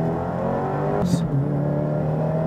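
A Subaru WRX VB with a big turbo on flex fuel launches hard with a loud, sustained engine drone. A brief hissing burst cuts through midway before the drone carries on.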